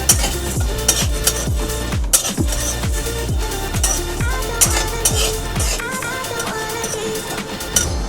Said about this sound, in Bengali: এইটা আমি শুকনো খোলায় ভেজে নেব